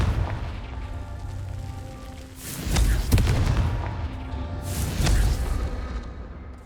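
Confringo blast spells in the video game Hogwarts Legacy go off twice, each a loud booming burst a couple of seconds apart over a low rumbling game backdrop.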